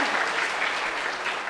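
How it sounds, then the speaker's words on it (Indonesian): Audience at a Balinese comedy show applauds in a dense, continuous wash of clapping that stays steady and close for its whole short length. "tepuk tangannya dong"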